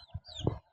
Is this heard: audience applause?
no